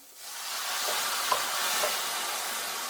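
Liquid poured into a pan of caramelised onions, bursting into a loud, sustained hissing sizzle that holds steady throughout, with faint clinks and no voices.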